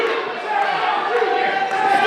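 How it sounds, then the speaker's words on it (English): A wrestling crowd at a live indie show chants in unison, a steady, loud, massed rhythmic chant echoing through the venue with no clear single voice standing out. "The crowd's chanting shame on you"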